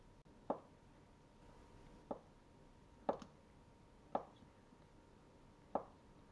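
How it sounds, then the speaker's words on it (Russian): Five sharp knife chops dicing potatoes on a cutting board, spaced about a second apart, crisp and close against a quiet background. "Нарезаю картофель кубиком."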